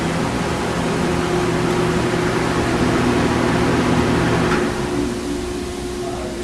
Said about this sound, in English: you can clearly hear the fan over the dust collector